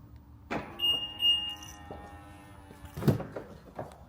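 A new BMW unlocking with a couple of short electronic chirps and clicks from the lock, followed by a door-handle clunk, close by and mostly free of talk.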